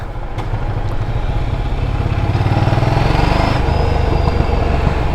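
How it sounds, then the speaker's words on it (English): A Ducati Scrambler motorcycle engine rumbles up close, rising and falling in pitch with a rough, crackling burble and pops from the exhaust on the overrun. "The exhaust pops and burbles. On the overrun, it has a lot of pops."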